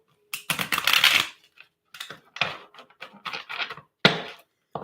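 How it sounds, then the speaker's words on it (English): Tarot cards shuffled by hand in a few quick riffling bursts, close and crisp, separated by short pauses, with no talking. "That was a bad shuffle."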